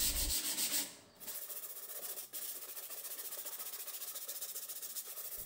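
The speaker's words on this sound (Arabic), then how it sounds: "وبعد جفاف المعجون هنصنفره صنفرة جيدة جدا بصنفرة رقم 220" Dried putty is sanded with 220-grit sandpaper, a brief pause followed by fast, even rhythmic scraping strokes that hiss continuously at close range, with no talking.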